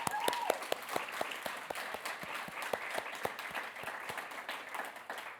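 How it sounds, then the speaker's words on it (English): Audience applause at a disability research funding launch, fairly quiet and distant, with distinct individual claps standing out in a steady rhythm over the wider clapping. "a very, very huge round of applause to our successful candidates"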